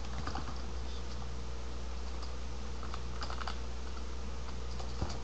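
Soft, quick typing on a computer keyboard, a steady patter of key presses at close range with a faint background hiss and no talk.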